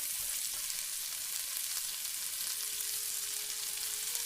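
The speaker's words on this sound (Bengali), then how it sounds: "পেঁয়াজগুলিকেও আমি লাল লাল করে সুন্দর করে ভেজে নেব।" Chopped onion and cumin fry in oil for masoor dal, an even, close crackling sizzle that holds steady throughout with no voice.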